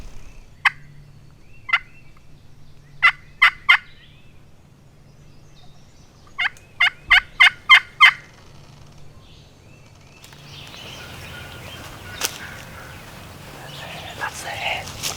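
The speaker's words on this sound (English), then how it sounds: "This turkey just gobbled." A wild turkey in the Missouri woods gobbles repeatedly in short rattling bursts: two single calls, then a rapid cluster, then another run of five or six, clear against a quiet background.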